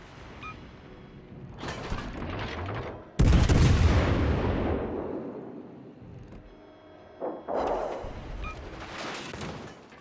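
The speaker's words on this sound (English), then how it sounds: "Incoming shot from the Montana seems to go around my ship and catch my icebreaker." Warship guns boom in World of Warships Legends as a Hindenburg trades fire with a Montana battleship. One heavy, close blast rolls into a long rumbling decay, and softer distant salvos rumble before and after.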